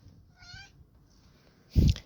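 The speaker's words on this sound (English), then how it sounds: "hear my cat trying to destroy the gate behind me" A cat meows while trying to destroy a gate, giving a short high meow followed by a louder, sharper cry near the end, over quiet background noise.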